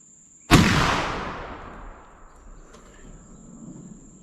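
A single loud black powder rifle shot fired with 2F powder cracks sharply, then rolls off in a long fading echo over a quiet outdoor background with a faint steady whine.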